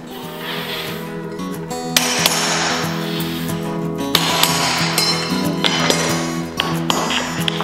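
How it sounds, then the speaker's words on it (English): Several sharp hammer blows on a tapping block against a Quickstep Studio Restoration Oak laminate floorboard, ringing metallic pings spaced a couple of seconds apart, close and loud. "then you can hook that on there and hammer it in"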